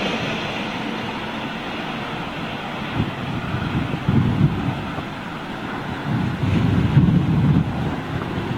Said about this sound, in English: Still a bit blustery up there. The wind has dropped quite considerably though